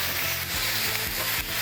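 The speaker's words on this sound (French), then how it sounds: "on peut retourner le poulet." Chicken sizzling and frying in a hot pan right after being flipped, a steady close hiss with faint stirring and scraping, no voices.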